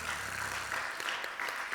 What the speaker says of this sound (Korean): 우리 서로에게 박수하겠습니다.